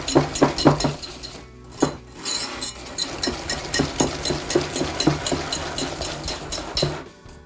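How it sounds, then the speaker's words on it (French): Apple cake batter is stirred by hand in a bowl, the utensil clinking and scraping against the sides in a steady, irregular rhythm of close, fairly loud knocks with no talking. "Je mélange l'ensemble."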